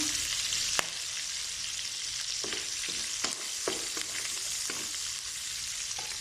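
Garlic sizzling alongside browned beef for estofado, a steady close frying hiss with a sharp knock near the start and repeated spoon scrapes and taps against the pan.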